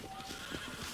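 Brief horse whinny from a horse in Red Dead Redemption, with soft hoof sounds beneath, loud and close for about a second.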